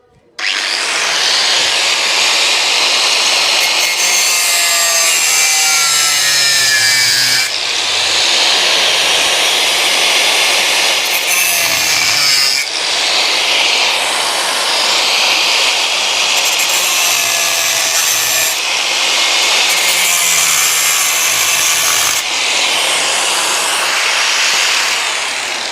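A power tool cuts into a rusted, stuck bolt on a water pump, whining loudly and steadily in several long passes separated by short pauses, with no speech.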